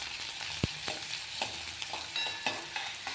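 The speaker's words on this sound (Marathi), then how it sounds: "तर आपण आता भाजीला तडका देणार आहे. ते बघू शकता इथे मोहरी आणि कांदा टाकलेला आहे." Mustard seeds and onion frying in hot oil as tadka for chole bhaji, a quiet steady sizzle with occasional pops and a utensil tap, no voices.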